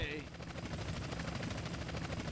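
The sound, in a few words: helicopter chasing the player in video game GTA San Andreas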